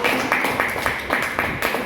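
An audience claps at a corporate Ayurveda event in India, steady moderate applause from a mid-sized crowd, filling the whole short stretch.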